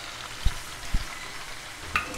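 Duck meat frying in a pan with turmeric and cumin, a steady close sizzle broken by a few soft stirring knocks, with no talking.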